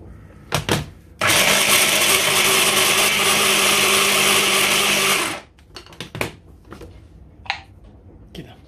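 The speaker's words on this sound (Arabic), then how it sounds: "وإذا عندك فرامة بصل فرمها" Electric onion chopper whirring loudly for about four seconds as it finely chops onion for an Ethiopian-spiced dish, a steady blended roar that stops abruptly, with a few clatters and kitchen knocks around it.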